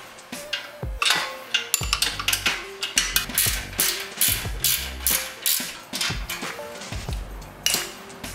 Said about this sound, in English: we need to go ahead and remove the bottom bolts from the mounting bracket. This is where your 13 millimeter wrench is going to come in.